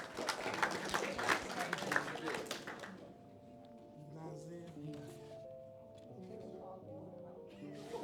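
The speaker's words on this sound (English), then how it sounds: "Give James a round of applause" Audience clapping at a graduation ceremony, a burst of loud applause for about three seconds that fades to scattered claps under a low hum and distant murmur.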